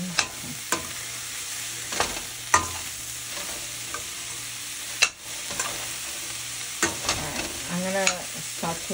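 A pan of meat sauce for tomato and meat lasagna sautés with a steady low sizzle, broken now and then by the scrape and clatter of a spoon stirring. No one speaks.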